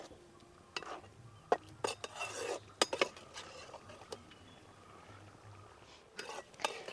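Utensil scraping and clinking against a pan as fried chicken eggs are stirred into a thickening egg curry (egg mappas), a few distinct metallic taps and scrapes, moderately close, with quiet gaps between.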